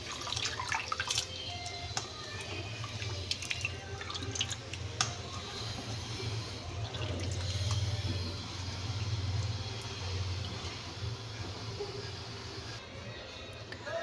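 Raw chicken pieces are washed in water at a home kitchen sink before being made into spiced chicken pakodi, with a steady stream of running and splashing water and occasional small clinks throughout.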